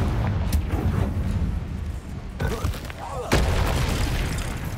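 A Confringo fire spell exploding during a Hogwarts Legacy battle, several booming blasts mixed with game combat noise and effects over about five seconds.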